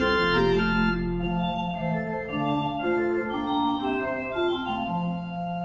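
A Dobson pipe organ, Opus 17, played on its 8-foot and 2-foot stops without the 4-foot, produces bright, steady sustained chords with a chirpy North German-style voicing and a low bass line, filling the space with no talking.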